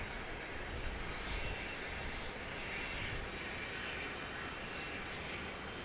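Airliner in special livery at Dallas Love Field, heard as a steady, distant roar of engines filling the whole stretch without talk.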